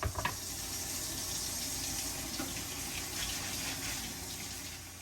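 Tap water runs steadily at a sink while potatoes are washed, a continuous broadband gush with a few splashes and clatters near the start, no voices.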